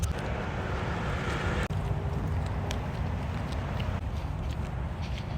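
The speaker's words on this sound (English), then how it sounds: "The wind is very brisk today." Brisk, cold wind buffeting a microphone outdoors, a steady low roaring rumble that fills the whole stretch with only slight gusting changes and no talking.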